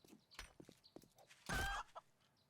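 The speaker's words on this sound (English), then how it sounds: "Let's go after this chicken." A chicken in the game 7 Days To Die gives quiet, short clucks over about two seconds, followed by a louder burst of impact or scuffle noise partway through.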